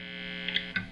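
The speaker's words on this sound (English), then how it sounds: "Any buzzing you hear is from the single coil pickup." Steady electric hum and buzz from an electric guitar's single-coil pickup through an amp: a constant low drone with a couple of faint clicks over it, and no playing or talking.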